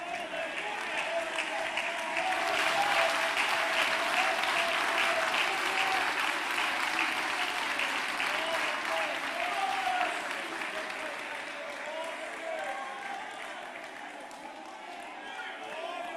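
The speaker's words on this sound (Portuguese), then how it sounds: "Você pode aplaudir a Jesus?" Sustained, loud applause from a church congregation at an Assembleia de Deus service fills the whole stretch, steady at first and easing slightly near the end, with a voice talking over it.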